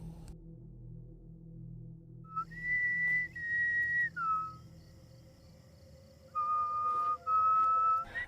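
A person whistles at night in an Indonesian horror film: clear, pure-toned melodic phrases in several separate bursts, with pauses between, over a quiet, faintly humming background.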